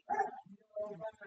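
A household dog lets out a few sharp barks and yips close by, a short flurry alongside someone narrating a baseball dice game.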